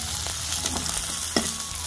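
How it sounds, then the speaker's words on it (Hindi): Finely chopped onions fry in hot oil in a kadhai over a traditional hill-style clay stove, giving a loud, continuous sizzle broken by a few sharp crackles and stirring scrapes. "तेल गर्म होने के बाद मैंने कुछ बारीक बारीक प्याज काटना है, तो प्याज को डालेंगे।"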